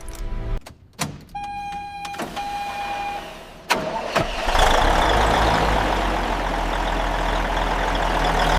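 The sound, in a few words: old semi truck engine starting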